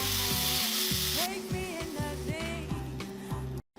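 Garlic sizzles in hot oil and butter in a pan with kosher salt and lemon juice, a steady, close frying hiss with crackles running throughout and no talk, cutting off abruptly at the end.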